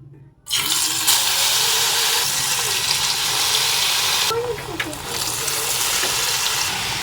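Semolina and potato snacks in batter are dropped into hot oil over a high flame, a loud steady frying hiss that begins abruptly after a moment of quiet and runs on without speech.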